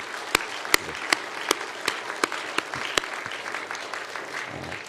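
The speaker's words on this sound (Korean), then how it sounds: "저 안에서 지금 수고하고 계시는 우리 음향조성실 우리 형제님들께 크게 한번 고마움의 박수 보내드립니다." A church congregation claps in thanks for the sound booth team, moderate applause with a few sharp, prominent nearby claps standing out in an irregular rhythm.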